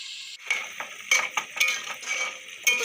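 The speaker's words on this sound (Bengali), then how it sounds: "এখন একটু ঢাকনা চাপা দিয়ে দেব" A metal pot lid set over a simmering jackfruit curry, a string of clinks and rattles of metal on metal, close and fairly loud.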